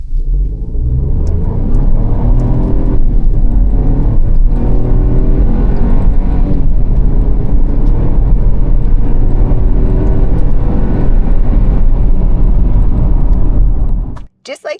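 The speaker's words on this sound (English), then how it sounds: "This is producing a whopping 137 horsepower with 162 pound-feet of torque and looks like this off the line." A 2026 Chevrolet Trax, a 137-horsepower subcompact crossover, pulling away hard from a standstill with a loud, steady engine drone and deep rumble heard from inside the cabin, holding strong before cutting off abruptly near the end.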